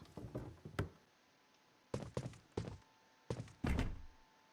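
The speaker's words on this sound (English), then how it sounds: "Drawer is locked." A locked drawer being tried in the survival horror game Clock Tower 3 gives a few hollow wooden thunks and knocks in short clustered groups with quiet gaps between them. No one speaks.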